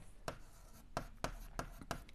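A pen writes on paper during a class 7 maths lesson on simple equations, making a few quiet, separate scratchy strokes against a faint background.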